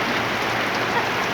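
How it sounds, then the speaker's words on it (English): Steady rain falls on an RV park in Mexico, with laundry kept dry under an awning. It makes a dense, even hiss close by, with no pauses or voices. "This is our first real rain video"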